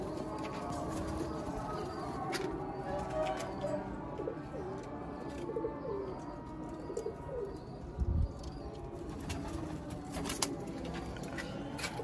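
Sialkoti pigeons coo softly and repeatedly amid a busy outdoor background, with a few chirps and faint knocks mixed in.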